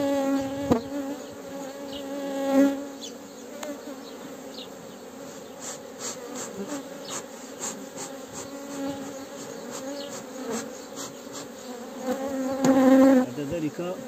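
Dense, steady buzzing of many honey bees at a beehive being assembled with frames and a honey super, close and loud throughout with slight swells.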